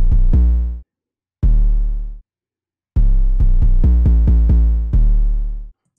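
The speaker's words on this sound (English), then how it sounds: "these are what the 808s sound like" Deep 808 bass notes in a trap-style beat boom in a sparse pattern. Long sustained hits are broken by silences, then a burst of rapid stuttered retriggers jumps between pitches, all loud and up front with nothing else playing.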